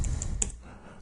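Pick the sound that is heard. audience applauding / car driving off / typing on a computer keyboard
typing on a computer keyboard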